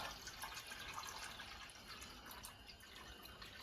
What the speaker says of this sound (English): I'm just going to have to fill my jug up and keep going up.